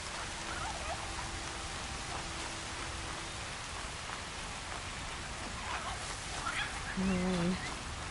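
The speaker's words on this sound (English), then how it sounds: "Rain" Soft, steady rainfall patters in the Horizon Zero Dawn game world, a faint even hiss throughout, with a short melodic game tone near the end.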